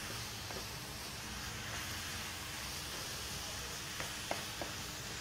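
Grated carrots for gajar ka halwa sizzle steadily as they roast in a pan, a continuous hiss with a few faint clinks near the end and no talk.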